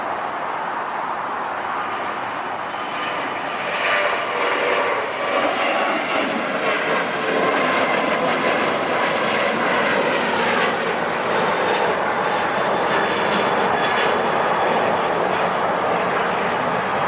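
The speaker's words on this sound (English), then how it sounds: "from United, flight 1185 going to San Jose del Cabo. Jetting down that runway." A United airliner, flight 1185 bound for San Jose del Cabo, thunders down the runway at LAX, a steady, loud broadband jet roar that holds for the whole stretch with no voices over it.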